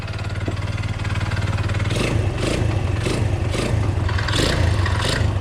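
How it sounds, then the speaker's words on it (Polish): Stunt scooter engine running steadily with a knocking crank, a rough low mechanical drone with rhythmic tapping pulses repeating about every half second, close and loud with no talk. "Korba stuka."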